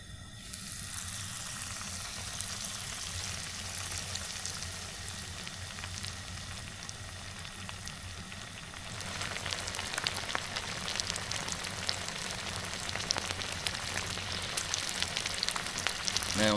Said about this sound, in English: We're going to have us some fried pork chops here in just a few minutes